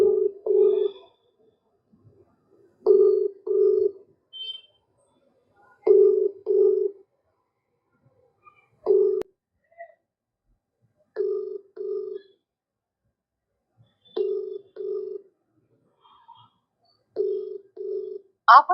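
An outgoing phone call to a housing society secretary rings on a handset, regular paired ringback tones repeating about every three seconds, moderately loud and otherwise alone.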